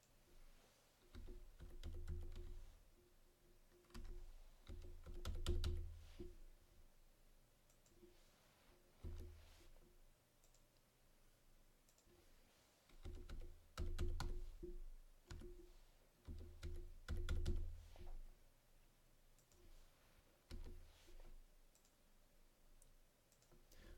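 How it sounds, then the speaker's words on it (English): Computer keyboard keys being typed, number entry for an SPSS recode, with bursts of soft, close clicks separated by brief pauses, no talk. "I'm going to go ahead and type the numbers to see if I can speed things up a little bit"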